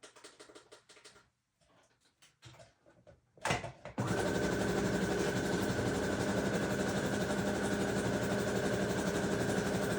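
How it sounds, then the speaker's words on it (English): After some quiet handling noises, a sewing machine starts up and runs continuously, stitching along the bottom edge of a paper folio with a steady, close mechanical whir. "I'm going to go ahead and sew around just the bottom"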